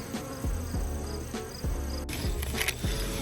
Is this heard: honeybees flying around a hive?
yes